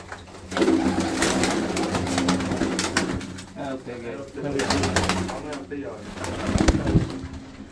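Pigeons cooing in a village loft in Gujrat, Pakistan, several low throaty coos in bursts, close and moderately loud, with a person talking over them.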